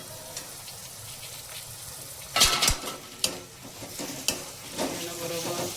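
Tomatoes drop into hot oil in a pan while a Gujarati vegetable curry (shaak) cooks, giving a sudden loud sizzle burst followed by steady frying hiss and a few sharp clanks of stirring.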